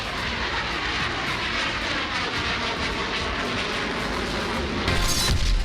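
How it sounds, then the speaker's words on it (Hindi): Roaring engine of a Sukhoi Su-30 fighter jet, a broad continuous jet rumble heard at steady loudness throughout, swelling slightly near the end. "भारत अपने अत्याधुनिक सुखोई 30 फाइटर जेट"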